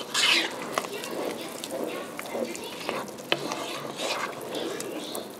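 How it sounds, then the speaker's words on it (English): Minute rice stirred into a bubbling Spanish rice sauce, a spoon scraping and swirling through the wet mixture with soft sizzling, close and moderately quiet, with irregular clinks and a few sharper knocks. "I'm going to add the minute rice. See if I can do this. Stir it all together."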